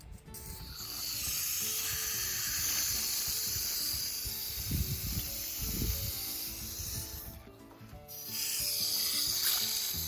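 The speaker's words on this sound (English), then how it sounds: "And now I'm just going to water them in." Water pours onto freshly planted okra in garden containers, a steady close hiss and splash that runs almost the whole time, briefly dropping off near the middle before resuming.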